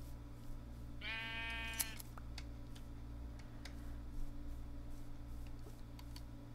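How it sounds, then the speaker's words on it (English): A sheep in the Minecraft video game gives one short wavering bleat, clear and close, over a steady low hum with scattered faint clicks afterward. "Oh, there's another sheep."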